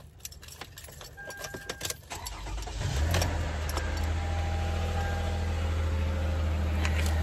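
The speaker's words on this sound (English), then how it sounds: "I wanted to come and start the car with you guys" Keys jangle close by, then a car engine cranks and starts in cold, rainy weather, settling into a steady low idle rumble.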